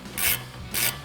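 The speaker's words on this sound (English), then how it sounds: "now throw your ratchet on that 11mm socket" Ratchet on an 11mm socket tightening a brake line bolt on a 2015-2023 Mustang GT during a big brake kit install, two short bright metallic ratcheting strokes, close and clear, with no talk.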